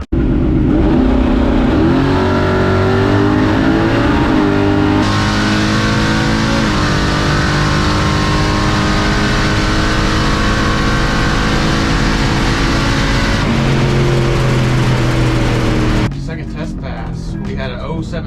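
A 700-horsepower Chevrolet C10 truck makes a drag racing pass, its engine roaring loud and steady throughout, climbing in pitch through gear changes before cutting off near the end, with voices mixed in.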